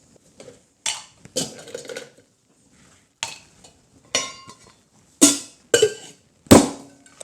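Ice cubes tumbling into a cocktail shaker for a tequila espresso martini: about eight sharp, clattering hard knocks in uneven bursts, close and fairly loud, with quiet gaps between and no talk.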